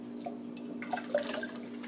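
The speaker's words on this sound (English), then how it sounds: "I'm now going to pour it into my cup, or in my jar, as carefully as I can" Kombucha with its SCOBY is poured into a jar, a soft splashing and dribbling of liquid, close and fairly quiet, with a few small drips and a faint steady hum underneath.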